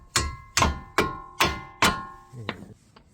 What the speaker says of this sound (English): Just gonna tap it with a hammer.